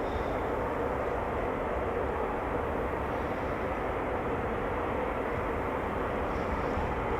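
Eurofighter Typhoon jet at RAF Coningsby during takeoff, a loud, steady broadband engine roar that holds constant throughout without pause.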